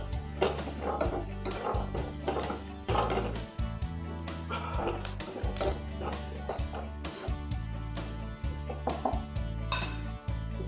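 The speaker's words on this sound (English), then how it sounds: "Give it a stir." Turmeric powder being stirred into masala in a pot for a pearl spot mango gravy, a spoon scraping and clinking against the metal in irregular close strokes over a low background hum.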